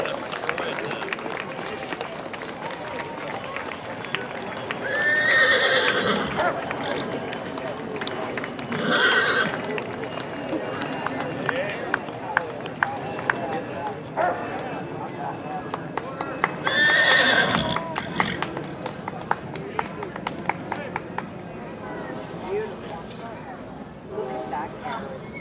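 Horses pulling a wagon in a small-town anniversary parade in Tipp City, Ohio whinny loudly several times over steady clip-clopping hooves, with crowd noise and people talking throughout.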